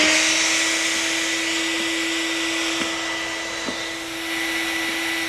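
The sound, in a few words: shop vac running under pool liner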